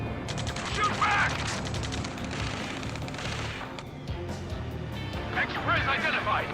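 Battle gunfire from the video game Ace Combat 7: dense, continuous rattling bursts and shots throughout, with shouting voices over the din.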